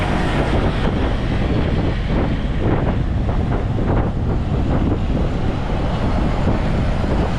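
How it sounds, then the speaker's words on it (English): Strong, steady wind buffeting the microphone while riding in the open back of a Toyota Hilux pickup on a mid-afternoon drive in Mindanao, a constant loud roar with rumbling gusts and no voices. "Riding on the back of brother-in-law Joaquin and Yolanda's Toyota Hilux"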